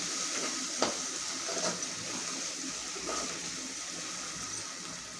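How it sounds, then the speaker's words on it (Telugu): Masala mixed with coriander and mint frying in a pan for mutton curry: a steady, close hiss of sizzling oil with a few sharp scrapes and clinks from stirring. "జస్ట్ ఒక 2 మినిట్స్ పచ్చివాసన పోయే వరకు వేయించుకోవాలండి"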